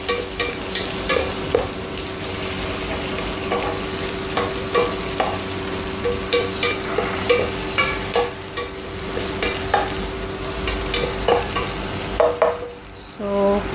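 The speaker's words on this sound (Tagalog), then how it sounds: "imimix na natin si tomato. Halu-haluin lang ng ganito." Tomato being stirred into a sizzling pan as a salmon-head miso sinigang base is sautéed, with repeated scraping stirs in an uneven rhythm over a steady fry and a faint background hum.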